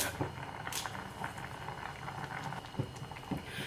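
Mango pulissery curry with curry leaves simmers uncovered in an open pot, giving a faint, steady bubbling and popping with a few louder spatters.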